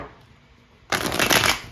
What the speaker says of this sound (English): I'm going to shuffle cards.